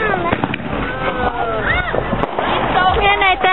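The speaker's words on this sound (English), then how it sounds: "Oh, this is a firework, guys." A New Year's Eve firework going off among a small group, crackling pops and whistling bursts under excited overlapping voices of adults and children talking close by.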